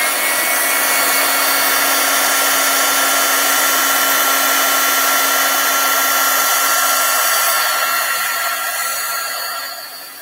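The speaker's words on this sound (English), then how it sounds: "let me get the heat tool. It's going to get a little loud for a second." An embossing heat gun blows loudly and steadily at close range, a constant whooshing roar with a whining hum that fades slightly near the end; nobody speaks.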